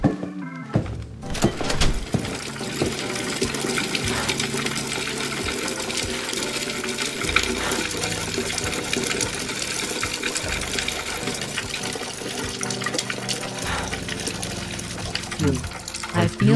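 An animated character pees into a toilet: a steady trickling, splashing stream of water runs for most of the stretch, close and continuous, over a dense bed of background sound.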